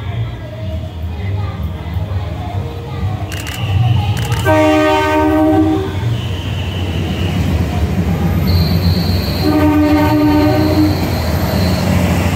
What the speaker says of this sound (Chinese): 3月台进站的是往花莲的专车